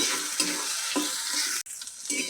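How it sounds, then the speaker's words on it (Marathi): Ginger garlic paste sautéing in a hot pan: a steady bright sizzle with periodic scrapes of a spoon, close and loud, briefly cut off by a sudden gap before resuming. "आपण त्याच्यामध्येही अद्रक लसूणची पेस्ट टाकूया आपली. आता तिला आपण परतून घेऊया आपण."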